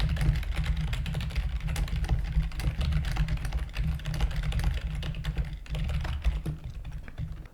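Fast, steady clicking of computer keyboard keys as Java code is typed, close and continuous with small pauses, no speech.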